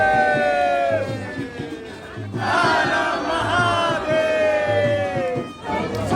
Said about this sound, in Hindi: यहाँ पे बहुत भीड़ थी भाई, बहुत भीड़ थी,